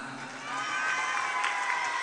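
Children at a public gathering for the Kebumen regent break into cheering, shouting and clapping; the crowd noise swells after a brief softer start and stays loud and bustling.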